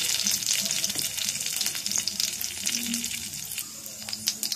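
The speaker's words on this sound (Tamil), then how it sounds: "நல்லா வதக்கலாம்" Onions sizzle and crackle in hot oil for a moong dal sambar, with frequent sharp spatters and a few scrapes of stirring, steady and close throughout.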